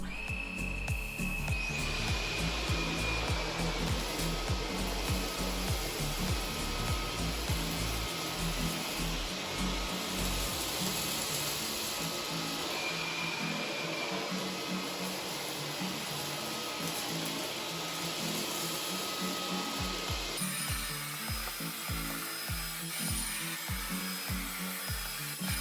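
A Cecotec Rockstar 1500 stick vacuum fitted with a Fluffy brush runs over carpet, a loud steady motor whine with shifting brush noise, cutting off near the end and restarting.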